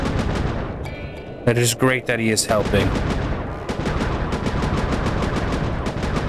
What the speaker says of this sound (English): Be careful with those fireworks, Panda King.